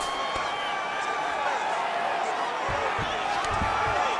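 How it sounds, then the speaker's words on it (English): A stadium crowd roars in a UFC video game, with a sustained, dense wash of cheering that swells slightly toward the end and is punctuated by a few low thuds. "big pop from the crowd as they get back to their feet"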